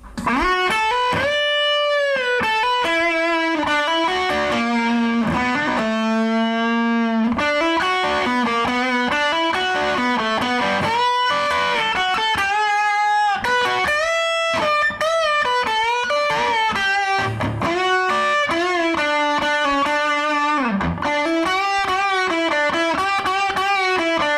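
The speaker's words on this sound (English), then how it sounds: "I'm going to press the button on my amp to turn the distortion on, and the solo is going to sound like this." A distorted electric guitar plays a fast, sustained solo line, full of bends and held notes, loud and continuous with no talking.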